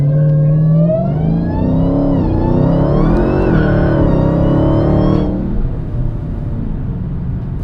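Dodge Hellcat launching aggressively from a stop, engine revving hard and rising in pitch for about five seconds before easing off into a lower, steadier drone, loud and close with no talk.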